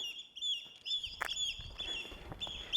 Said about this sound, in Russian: Чайки что-то разгалделись.